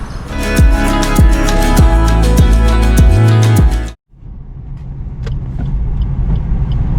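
A car's engine hums loudly with rhythmic thumps as it drives along a road near Panvel, India, then the noise cuts out briefly and returns as a softer rumble.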